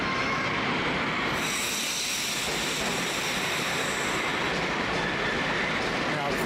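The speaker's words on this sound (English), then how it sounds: "it's been 36 seconds since the last train went by" A Moscow metro train pulls into a station, a loud rushing rumble with rail noise and high whining tones that builds and holds for several seconds.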